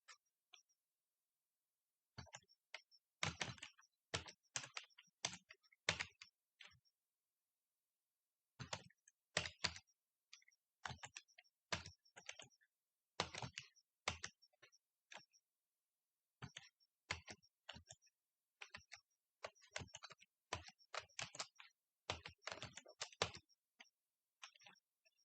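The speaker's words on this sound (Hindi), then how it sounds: "यहाँ हम टाइप करते हैं इसको" Close clicks of a computer keyboard, rapid bursts of keystrokes separated by short silent pauses, fairly quiet and with no one talking.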